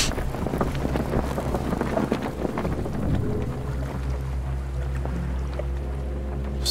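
A raft sails on the open sea in the survival game Stranded Deep, a steady rush of wind and water with a low droning hum underneath, continuous and fairly loud.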